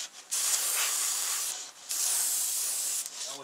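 Red paint hisses out of a sprayer onto the gills of a mounted walleye in two long, steady bursts separated by brief pauses, with a short third spurt at the end.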